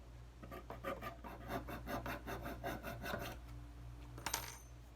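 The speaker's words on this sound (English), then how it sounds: "then I have to file these holes" A hand file rasping holes in metal while making a DIY compressor cord wrap, with a steady back-and-forth series of about a dozen scraping strokes, close and fairly quiet over a low hum, then a brief metallic clink.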